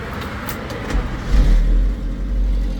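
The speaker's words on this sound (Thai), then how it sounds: "เดี๋ยวสตาร์ทเครื่องให้ดูนะครับ" A 2001 Suzuki Caribian 1.3 4WD engine rumbles low and swells briefly into a rev before settling back to a steady idle, close by.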